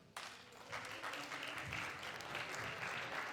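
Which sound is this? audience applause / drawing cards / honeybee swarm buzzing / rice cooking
audience applause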